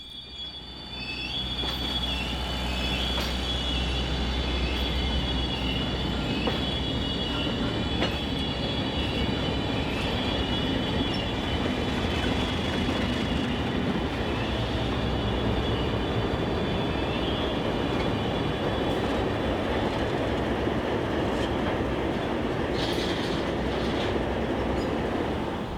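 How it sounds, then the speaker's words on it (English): Arkansas & Missouri Alco diesel locomotive train running north through quiet neighborhoods of Van Buren, a steady, fairly distant rumble with high wheel squeals throughout, no voices. "After loading up, the train heads north through the quiet neighborhoods of Van Buren."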